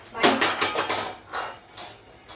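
Pots and pans clatter in a home kitchen during cooking, a cluster of loud, close metallic knocks and rattles followed by a few softer bangs and scrapes.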